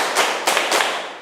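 Classroom students clapping together in a counting clap game, three sharp group claps in quick succession, loud and close.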